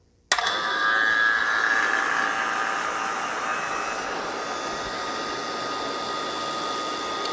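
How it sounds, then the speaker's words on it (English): A vacuum pump hooked to an air-conditioning unit switches on abruptly and settles into a loud, steady mechanical drone with a hissing edge that runs unbroken, with no talking. "So we're going to turn our vacuum pump on now."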